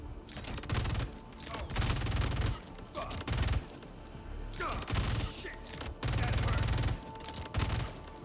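Controlled bursts of automatic gunfire in the Star Citizen video game, several loud rapid-fire volleys separated by short pauses, with game sounds between them.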